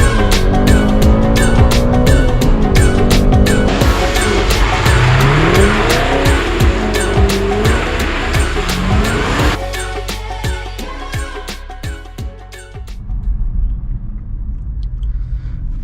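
A 640-horsepower Cadillac CTS-V spins donuts, its engine roaring and revving as the tires squeal in long wavering howls, loud and close, before the noise drops to a lower rumble near the end.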